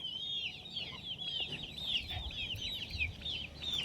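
Native country chickens, including a white hen and chicks, clucking close by in a continuous, busy chorus of short rising calls, with faint farmyard background and no talking.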